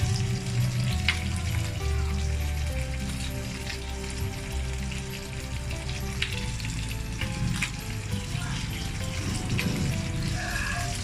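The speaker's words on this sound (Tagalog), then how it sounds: "Kumukulo na siya, pwede natin ilagay ang dahon ng malunggay." A pot of water boils as moringa leaves are dropped in, giving a steady bubbling, sizzling rush with occasional splashes and clinks at close range, and soft background sounds underneath.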